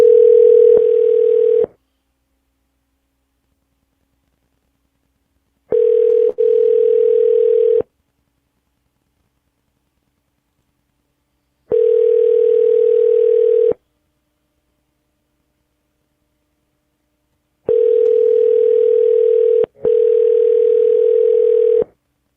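Steady telephone dial tone sounding in four separate bursts with silent gaps between them while a call is placed, loud and alone with no talking.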